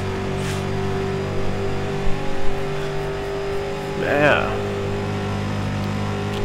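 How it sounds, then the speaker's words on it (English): A race car engine in the iRacing video game, a street stock car on an oval, drones steadily with constant harmonic hum, briefly rising in pitch near the end, while a voice speaks a single short word. "Listen to the audio of the car."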